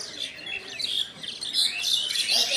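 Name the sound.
many birds chirping at railway station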